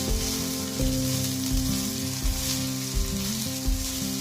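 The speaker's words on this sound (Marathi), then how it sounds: "चांगले पोळून शालो फ्राय करायचे." Coriander mutke shallow-fry in a pan with a steady, dense sizzle. Faint stirring bumps recur every second or so, and the frying sound stays close.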